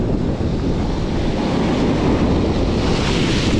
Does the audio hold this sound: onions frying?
no